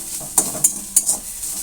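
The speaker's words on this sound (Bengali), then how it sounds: "ঘিটা গরম করে আমি প্রথমে নিম পাতাটা ভেজে নেব।" Neem leaves fry in hot ghee over a low flame. A soft sizzle runs underneath several sharp scraping strokes of a spatula against the pan, close by and with no talk.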